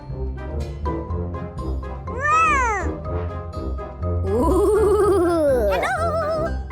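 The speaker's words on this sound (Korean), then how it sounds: "어? 고양이?" Cat meows in a children's Alice in Wonderland pretend-play scene, two long drawn-out wailing meows, the second louder and extended, over a busy background of music and other sounds.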